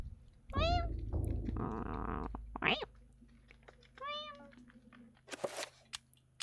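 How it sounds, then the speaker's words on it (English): A cat meows several times close by, rising and falling calls with a short broken caterwaul, then quiet between them and a few faint taps. "let me give you a meow"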